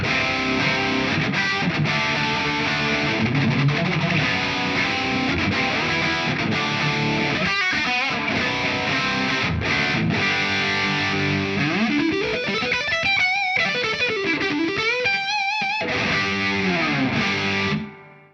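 Distorted electric guitar from a budget PRS model, played alone with thick, heavy chords and some sustained bends, loud and steady throughout before stopping abruptly at the end.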